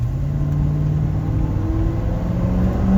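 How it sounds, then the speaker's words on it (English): A 1985 Ford F-150 XLT Lariat pickup with a 351 high-output engine accelerates, its steady mid-pitched rumble rising in tone as the revs climb, loud and close throughout with no voices. "let's give it a little gas and see what she's got."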